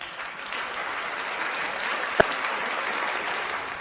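Steady applause from a crowd, many hands clapping continuously at moderate volume, with one sharp louder clap near the end.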